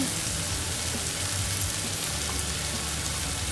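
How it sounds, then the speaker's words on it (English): Steady frying sizzle of eggs being scrambled for egg bhurji, a dense crackling hiss from a hot pan, continuous and close with no talking. "It is sizzling,"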